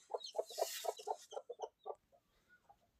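A rooster clucks in a quick rhythmic series of short, close notes that slow and fade, followed by a few quieter clucks.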